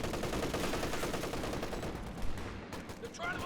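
Dense, continuous machine gun fire rattles through a Company of Heroes 2 match, loud and sustained for most of the moment before thinning into scattered shots near the end.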